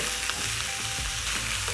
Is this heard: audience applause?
no